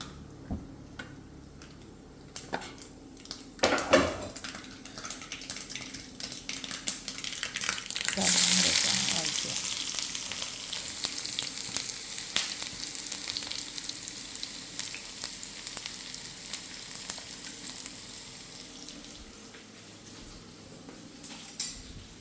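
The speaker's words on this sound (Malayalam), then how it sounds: "നമ്മളിവിടെ വെച്ചിരിക്കുന്ന സവോള ജസ്റ്റ് ഒന്നിട്ട്" Sliced onion fries in hot oil in a kadai, with a surge of sizzling as it hits the pan, then a continuing hiss with occasional clinks of a utensil and a faint voice.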